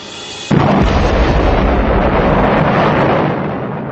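A foamy solution bursts violently out of a tube, mimicking a volcanic eruption: a sudden loud blast after a brief quiet lead-in, followed by a sustained roaring rush that slowly fades.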